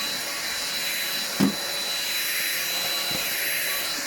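An Aldi Ambiano vacuum cleaner running steadily on a Persian carpet, a loud, continuous whine and rush of air, close by, with one brief bump partway through.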